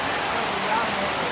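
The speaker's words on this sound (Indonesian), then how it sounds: "Hujan deras nampaknya mengguyur lapangan Desa Pondolunang" Heavy rain pours down on a village football pitch at Desa Pondolunang during a cup match, a steady dense hiss filling the whole moment with faint voices blended underneath.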